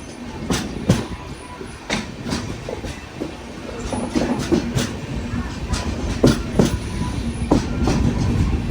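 Sleeper-class carriage of the Netravati Express running from Thiruvananthapuram to Mumbai, a constant rumbling rattle with repeated rhythmic wheel clacks heard from inside the coach.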